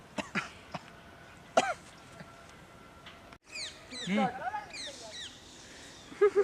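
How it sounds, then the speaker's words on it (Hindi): A person coughs several times in short, sharp bursts, close to the recording, with brief throat-clearing sounds and other faint voice noises in between. "खांसो।"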